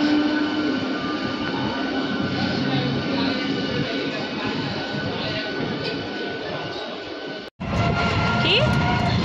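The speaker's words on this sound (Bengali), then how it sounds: "দেখো ট্রেনটা ছেড়ে দিয়েছে আর ওরা দৌড়াচ্ছে" A train moving out of a station, a steady loud rumble of wheels and carriages close by with faint squeals, continuing unbroken before a brief dropout near the end.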